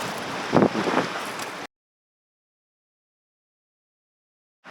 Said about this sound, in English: It's a windy morning.